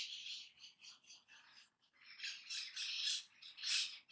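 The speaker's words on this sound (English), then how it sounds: "These are birds that are flying overhead." Birds squawk and chirp in quick repeated bursts while flying over a backyard on the first day of fall, faint and somewhat distant, with no talking.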